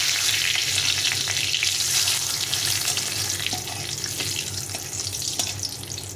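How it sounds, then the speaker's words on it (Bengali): A dried red chilli and a bay leaf fry in hot oil, giving a loud, dense, continuous sizzle with scattered crackles and spatters that eases a little toward the end. "একটা শুকনো লঙ্কা ফাটিয়ে দিয়েছি, আর এখানে দিলাম একটা তেজপাতা ফাটিয়ে দিলাম।"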